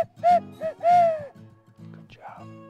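A second person's voice imitates an owl's hoot during a turkey hunt, giving a few short, close hoots followed by one longer hoot, with faint outdoor background and a brief bit of other sound afterward.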